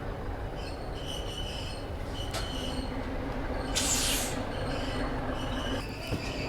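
A shunter locomotive works a railway yard, steady rumble with metallic wheel squeals and clanks, including a sharp screech burst midway, no voices.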